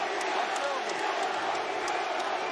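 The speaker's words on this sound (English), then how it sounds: "you can hear the crowd" Steady roar of a large crowd at a Madison Square Garden boxing match, Teofimo Lopez against Josh Taylor, a dense continuous wash of voices with faint cheers rising through it and no clear single speaker.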